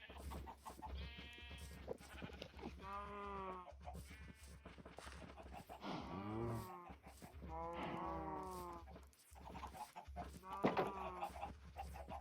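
Cows in Minecraft moo in a series of drawn-out calls, mixed with other farm animal bleats and clucks, fairly close and quiet.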